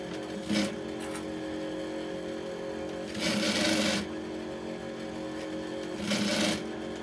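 A sewing machine runs top stitching along a leather and mudcloth foldover clutch bag, a steady mechanical whir with louder bursts of fast stitching near the start, middle and end, no voices.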